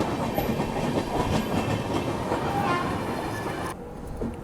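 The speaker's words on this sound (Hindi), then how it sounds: "चलिए ट्रेन यहाँ पे 10 मिनट रुकी और डिपार्चर हो गया शिकोहाबाद से" The Suhaildev Express departs Shikohabad station with a rolling rumble and rhythmic clickety-clack of wheels over rail joints, close and continuous, and the noise eases slightly toward the end.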